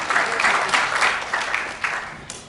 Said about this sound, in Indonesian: Tepuk tangan bagi Allah kita, amin